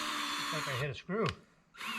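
A power drill drives screws into metal trim on a greenhouse build, a brief whining burst that returns after a pause, overlapped by someone talking.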